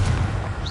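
A Confringo fire spell explodes in the Hogwarts Legacy video game: a short, loud, booming blast with a heavy low rumble, heard alone.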